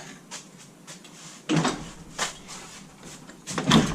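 A warped, swollen wooden door in a workshop slides and scrapes in its frame, giving a few rough rumbling drags with knocks, the loudest bursts near the middle and end.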